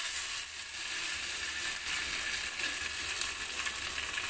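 Curry leaves and mustard seeds crackle and sizzle in hot oil in a pan for Kerala-style apple pachadi, a steady close frying hiss without talk.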